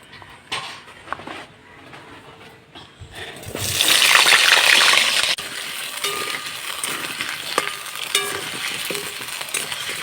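Potatoes drop into hot oil in a wok and burst into loud, bubbling sizzling after a quiet start, then settle into a steady fry with occasional stirring clinks nearby.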